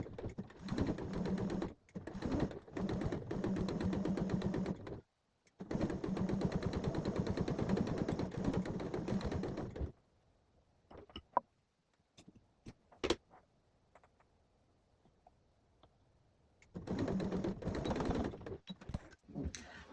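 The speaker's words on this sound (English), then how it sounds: "So you want to sew about 1/4 inch away from the edge." A sewing machine stitches bias tape onto a fabric bowl cover in fast rattling runs, several short bursts then a long steady stretch, close up, a pause with light handling clicks, then stitching starts again.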